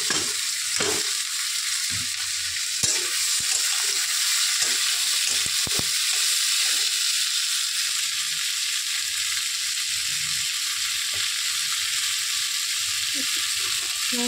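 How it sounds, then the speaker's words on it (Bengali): Hot oil sizzles steadily in a pan as banana flower and hilsa fish head fry, with scattered clinks and scrapes of stirring over a loud, constant crackle. "এখানে তেলটা আমার গরম হয়ে গেছে, আগে ভাজাটা বসিয়ে দিই"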